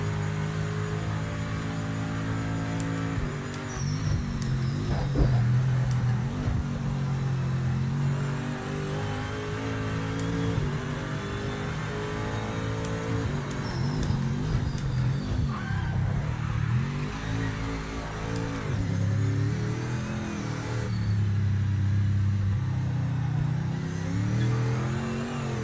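A high-torque race car engine in a motor racing video game revs and pulls hard, its steady drone rising and falling through shifts with brief tyre skids, continuous and close with no talk.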